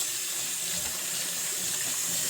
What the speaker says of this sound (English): I'm gonna rinse this off one last time.